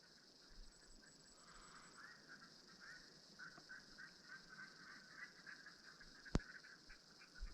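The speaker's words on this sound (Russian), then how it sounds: "Слышу, летят утки." Faint, repeated duck-like calls in a steady outdoor ambience during a duck hunt, fairly distant and quiet, with one sharp click near the end.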